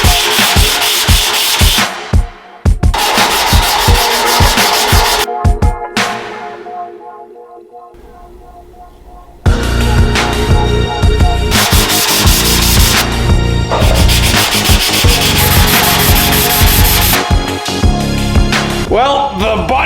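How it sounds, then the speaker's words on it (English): Rhythmic sanding strokes scrape loudly against a 1971 Cutlass body panel, with a short break midway before the steady back-and-forth rubbing resumes. "So let's get sanding."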